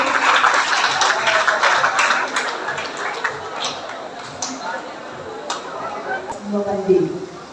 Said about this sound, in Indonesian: tepuk tangan dong untuk teman-temannya